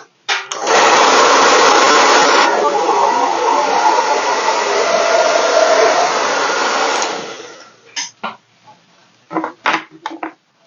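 Hair dryer drying freshly applied paint, a loud steady blowing whir for about seven seconds that cuts off, followed by a few scattered clicks and handling noises.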